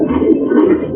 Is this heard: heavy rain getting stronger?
no